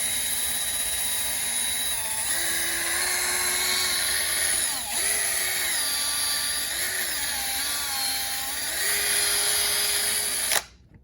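A power drill fitted with a sanding disc works over a plastic headlight lens with light pressure, giving a loud, continuous whine whose pitch shifts up and down with the strokes before it cuts off abruptly near the end.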